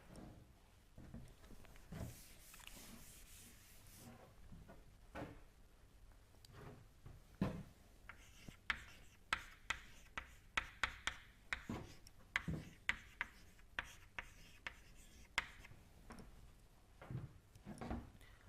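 Chalk or marker strokes on a lecture-hall board during a fluid mechanics lecture, faint at first, then a rapid series of sharp taps and scratches in the second half, with no talking.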